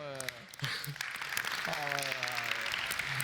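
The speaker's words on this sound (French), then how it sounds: "je sais pas pourquoi j'applaudis." A single person clapping hands in applause during a lively French-speaking car-judging reaction session, steady claps heard under overlapping chatter and talk.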